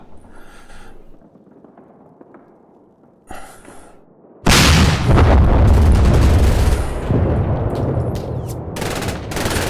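Stuka dive bomber attack in the wartime strategy game Combat Mission Red Thunder, set at Stalingrad: a quiet start with faint rumbles gives way at mid-clip to a sudden loud barrage of bomb explosions and gunfire that keeps roaring to the end.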